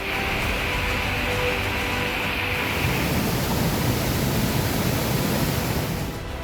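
Stormy flood waters from a cloudburst surge through the main market of Ganderbal, a loud, continuous roar of rushing water with no voices.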